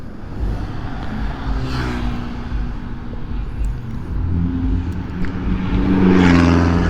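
Dense road traffic on a busy evening in Chonburi during Songkran: a steady, loud wash of car engines and tyre roar, with one vehicle swelling louder as it draws near toward the end, and no voices.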